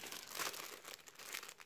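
A plastic bag crinkles and rustles in short bursts as a clothing care label is slipped inside, close up and fairly quiet, with no talking.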